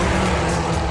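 A Lamborghini Murcielago engine revs hard with the throttle wide open, a dense, loud, continuous roar up close.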